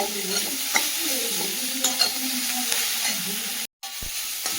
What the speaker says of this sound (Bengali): সবজিটাও ভালোভাবে ভেজে নিয়েছি